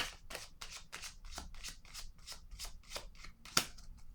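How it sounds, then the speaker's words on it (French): Tarot-style cards are shuffled in a series of quick crisp riffles and flicks, then laid out on a table during a card reading, close and fairly soft with one sharper snap near the end. "je vais déposer une autre carte ici"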